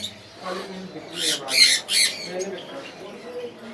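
Two sun conure parrots, a red-factor breeding pair, give loud harsh squawks in a short burst near the middle, with a person talking under and around them.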